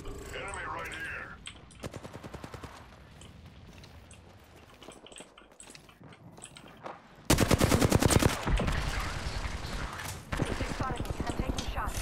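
Rapid automatic gunfire in the Apex Legends video game, dense bursts of shots that grow loud and sustained in the second half, mixed with game effects and a player talking over the action.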